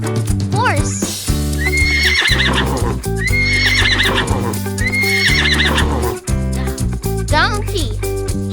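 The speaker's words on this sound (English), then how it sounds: "Horse." A horse neighs and whinnies several times with clip-clopping hooves, set against bright, steady children's music.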